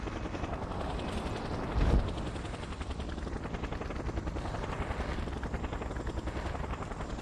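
Steady rotor thrum and engine drone of a helicopter in the video game Just Cause, continuous and fairly loud with a brief thump partway through, no talking.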